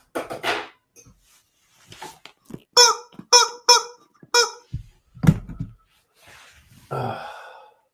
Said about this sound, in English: Chickens falling to their death everywhere.